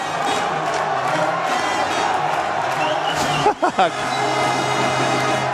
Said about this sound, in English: They're cheering on the Trojans.